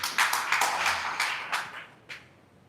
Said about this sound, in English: a big round of applause for OQATA Wellness Solutions